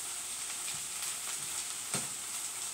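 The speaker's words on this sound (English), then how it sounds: "So I'll just let it, like, you know, do a little fry thing." Food sizzles quietly in its own oils in a pan with a steady soft hiss and a few faint pops and stirring clicks throughout.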